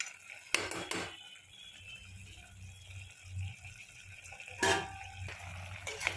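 Mutton curry being mixed with a spoon in a pan, its meat releasing water: faint wet stirring with two brief, sharper scraping bursts against the pan, no voices.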